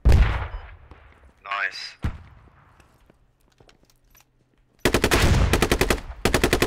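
Gunfire in a Squad military shooter game: a sharp shot, scattered distant cracks, then loud rapid automatic bursts in two stretches, with a brief voice of a player speaking early on.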